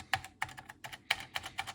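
Keys clack on a Robik computer keyboard in uneven bursts of typing, close and fairly quiet, with no talking.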